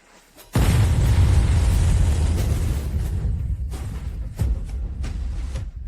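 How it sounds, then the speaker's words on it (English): An explosion sound effect in a drama bursts in suddenly and loudly after a brief quiet moment, then rolls on as a sustained rumbling roar with a few further thuds and crackles. "Once the explosion goes off,"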